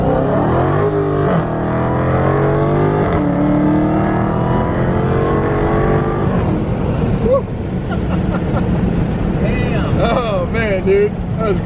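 A 2020 widebody Dodge Hellcat with a cold air intake revs hard, its loud engine climbing and falling in repeated pulls up close, then settling into a rougher idle with crackles near the end.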